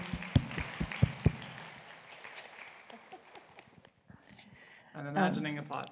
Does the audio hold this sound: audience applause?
yes